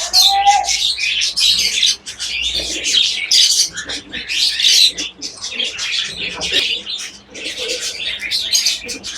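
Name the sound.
pigeons cooing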